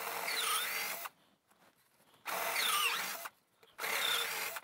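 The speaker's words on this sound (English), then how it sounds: "I went ahead and pulled out the bigger guns, my 3/8 inch bit. So let's get an opening here big enough to work with." An electric drill fitted with a 3/8 inch bit bores an opening in three close, loud bursts of whirring, each about a second long and separated by short quiet pauses.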